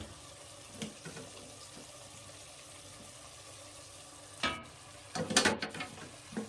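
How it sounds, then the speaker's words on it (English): Soft simmering bubbles under a few scraping stirs of chicken in a pot of broth, quiet at first, then louder clattering strokes toward the end. "So obviously I am going to give this a stir."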